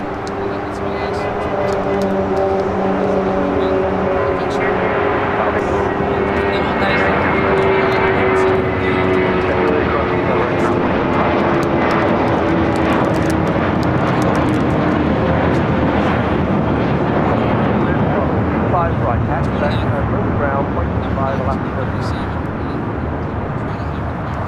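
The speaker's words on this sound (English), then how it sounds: "Viva Aerobus A321 taking off here on the south side" Viva Aerobus Airbus A321 jet taking off on the south side at LAX, a loud steady engine roar with slowly falling tones, heard continuously from start to finish with a voice talking over it.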